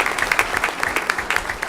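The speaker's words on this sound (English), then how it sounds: "Let's give him a round of applause." An audience at a school board meeting claps, many hands beating in quick uneven bursts that sound close and lively, with no voices.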